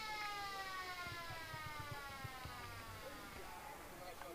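Long wailing end-of-game siren at a Riverina Australian football match between the Lions and Bulldogs, a steady sustained tone sounding across the ground over crowd noise, with faint thumps underneath.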